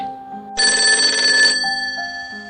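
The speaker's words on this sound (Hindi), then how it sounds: "अभी कुछ पेपर बैग में रखे ही थे कि मेरे फोन की रिंग बजी" A phone rings close by with an electronic ringtone of sustained, bright tones that swell and then step down in pitch, with no talking.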